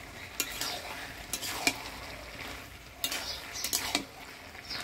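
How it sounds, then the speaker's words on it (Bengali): Fried fish heads stirred into a bottle gourd curry, with scraping utensil strokes against the pot and occasional clinks over a low sizzle, in bursts of stirring with short pauses. "এবার ভাজে রাখা মাছের মুড়াগুলো দিয়ে দিই।"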